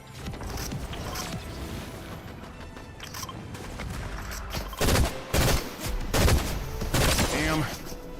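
Assault rifle fire in a video game comes in several loud, close bursts of automatic shots in the second half. Mechanical clicks and game ambience sit underneath.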